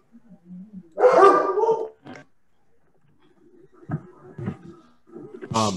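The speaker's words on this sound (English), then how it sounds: "my dog wanted to participate" A pet dog in a home barks during an online meeting: one loud, close bark burst, then a few softer, scattered barks and yelps over a quiet room.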